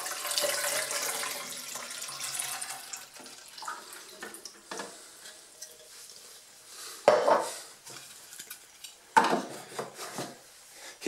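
Cold water runs from a tap into the water tank of a Cremesso Compact One capsule machine, a hissing flow at first, then quieter trickles broken by a few plastic clunks and knocks from handling the tank.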